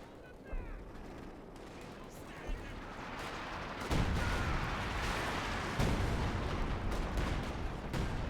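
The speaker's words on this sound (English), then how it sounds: "I think that's a major artillery barrage." An artillery barrage and tank cannon fire in the strategy game Company of Heroes 2 rumble as dense battle noise, with repeated heavy booms and crackling gunfire under a steady roar.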